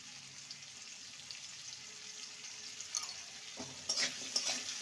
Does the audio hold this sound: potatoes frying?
yes